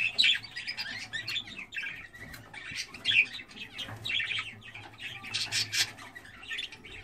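Canaries chirp and squawk in a nest with newly hatched chicks, the female tending them; close, busy high-pitched calls and short tweets continue throughout over a low steady background hum.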